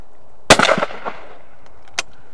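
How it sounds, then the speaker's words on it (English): A single loud shotgun blast is fired at a clay target on its way up. The sharp crack trails off into a short rolling echo, and a fainter distant pop follows a moment later. No voices. "I want you to shoot this under power. As it's on the way up."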